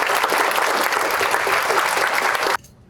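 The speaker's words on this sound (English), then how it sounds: "So let's give Amanda a warm round of applause." A conference crowd gives a keynote speaker a warm round of applause: loud, thick clapping fills the room, then cuts off abruptly into near silence.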